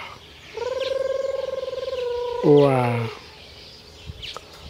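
A peacock gives a long, loud, nasal wailing call with a rising harmonic-rich tone that breaks into a harsher honk near its end, followed by quiet background; a voice briefly exclaims.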